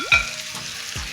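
Liver hits a hot tawa with spices for spicy street-style kaleji, giving a short sizzle and scraping stir, close and brief.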